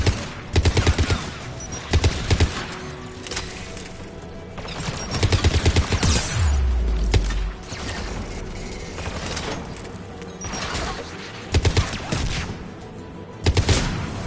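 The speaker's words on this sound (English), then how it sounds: "AA guns ahead." Anti-aircraft guns in the sci-fi shooter Mass Effect 3 rattle in loud, close bursts, several clusters of heavy rapid fire separated by quieter gaps, with a deep boom partway through.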